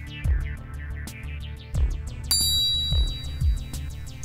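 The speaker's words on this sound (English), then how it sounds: "That is the sound of feel of the MP52," One clean impact of a golf ball struck with a Mizuno MP52 dual muscle iron with a milled pocket cavity, a short bright ringing click that stands above a looping background beat.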